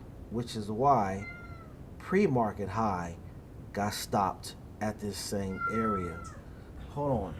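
A Bengal cat meows several times, close by, in short rising and falling cries mixed in with someone talking steadily over them.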